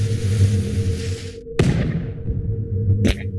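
A cannon in the video game Henry Stickmin Collection fires with a sharp boom and a rumbling decay over a steady hum, followed by a second shorter blast.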